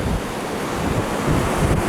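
Strong wind gusts across the rough-weather shore at Saltom Bay, buffeting the microphone with low rumbling noise over crashing surf, loud and constant, no voices.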